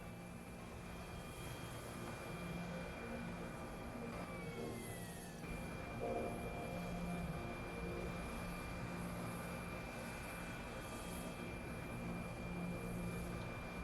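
Modded airplane in Factorio, a steady synthetic propeller-engine drone with a faint tone that slides down midway, continuous and moderately quiet, no speech.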